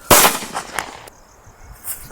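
One loud, close blast from a Lakshmi Gold Diwali firecracker opens the moment and rings out in a fading echo, followed by a smaller crack and a quieter distant pop.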